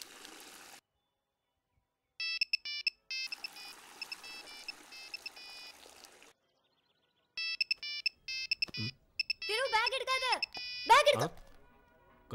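A mobile phone ringtone chirps in repeated short electronic bursts, then a warbling melodic tone, in a Tamil film scene, with gaps of silence between rings and no talk over it.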